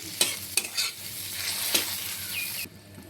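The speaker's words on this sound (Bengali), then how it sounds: "মশলার সাথে আলু আর পটলটাকে আমি ভালো মতো কষিয়ে নিয়েছি।" Potato and pointed gourd sautéed with spices in a pan, stirred with a utensil: a steady sizzle runs throughout, broken by several sharp scraping strokes, then it cuts off abruptly near the end.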